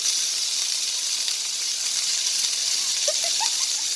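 Chicken pieces sizzling in hot oil in a wok while frying rice, a steady close hiss with a few short pops and crackles near the end.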